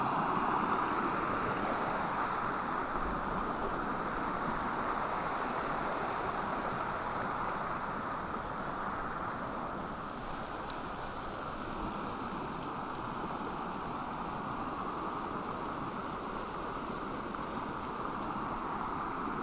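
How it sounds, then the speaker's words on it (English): A small mountain creek flowing outdoors, a steady broadband rush of moving water heard fairly close, constant throughout with no talking. "That little creek is moving."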